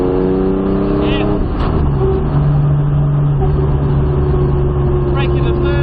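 A modified Jaguar E-type engine drones loud and close as it accelerates on a track, with the rising tone shifting partway through and an instructor talking over it.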